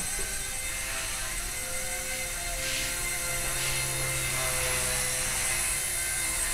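A Blade mCPX radio-controlled helicopter flies indoors inside a house, giving a steady high-pitched whine from its small motor and rotor with a faint whooshing of blades, close by and continuous, with no talking.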